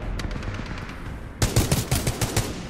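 Automatic weapon fire in Titanfall 2 multiplayer: after a quieter lead-in of distant pops, a loud close burst of rapid shots erupts and rattles on in a quick, slightly uneven rhythm.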